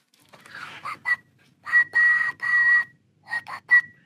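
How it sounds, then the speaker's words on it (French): A beatboxer whistles with the back of the tongue pressed to the palate, making a string of short, airy pitched whistle bursts in an uneven rhythm, clear and close. "À siffler, tu vois, avec l'arrière de la langue collé au palais."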